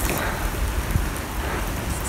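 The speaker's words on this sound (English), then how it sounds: "Oh my god, I'm feeling rain." Rain falling on a foggy, misty dark night outdoors, a steady soft broadband hiss with faint gusts of wind across the microphone, continuous and fairly close.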